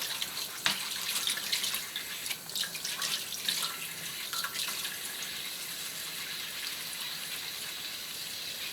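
Cold water runs steadily from a tap as soft leather slippers are washed with Marseille soap. The flow is moderately loud and even, with a few brief splashes and knocks near the start.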